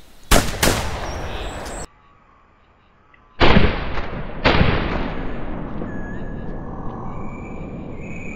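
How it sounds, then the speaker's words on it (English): Hunting rifle shots in the game theHunter, played in multiplayer on the Whitehart map: a loud sharp report, then two more heavy booming shots a few seconds apart, each with a decaying echo and quiet ambience between. "I think we shot at the same one."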